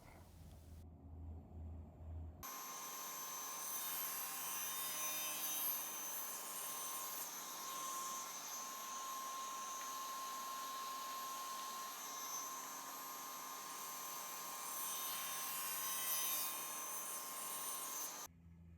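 A table saw cuts tapers in scrap-wood table legs using a particle-board jig, its loud high whine holding steady for about fifteen seconds after a brief quieter start, then cutting off abruptly.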